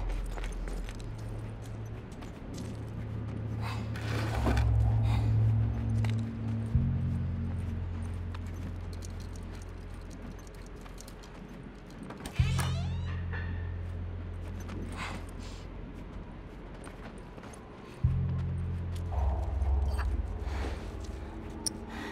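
Horse hooves clip-clop at a steady walk through the video game The Last of Us, a soft rhythmic patter beneath a low, droning game soundscape with occasional thuds.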